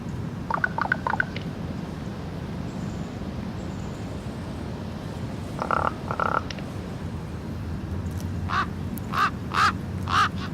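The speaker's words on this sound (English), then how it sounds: "Listen for the raven." A raven calls in an outdoor setting, with harsh croaking caws in short clusters near the start, middle and end, the last a run of several evenly spaced calls over faint background noise.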